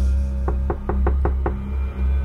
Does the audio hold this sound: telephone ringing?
no